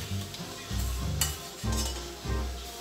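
Sofrito goes into a hot pan for homemade pollo a la brasa, giving a close, steady sizzle broken by short bursts of spoon scraping and stirring.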